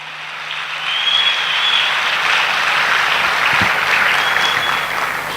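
A large stage audience claps loudly and steadily, a dense, sustained wash of applause that stays strong for several seconds before easing slightly at the end.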